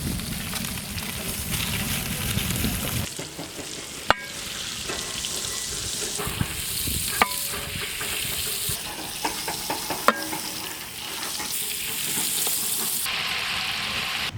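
Butter melts and sizzles in a heated pan for paneer butter masala, a continuous close frying hiss broken by occasional sharp clicks and utensil taps, with no voices.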